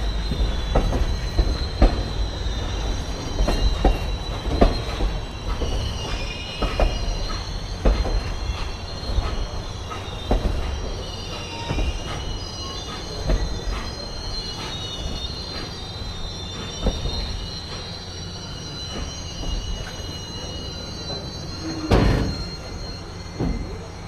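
Train hauled with diesel helper locomotives rolls along steadily, with wheels squealing high against the rails, repeated clicks and clanks over the track, and a low rumble underneath, close and continuous throughout.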